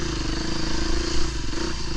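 A Fantic 350 enduro motorcycle derived from a motocross bike runs its engine with a loud, close, rapid popping thrum that stays steady with small surges in revs throughout.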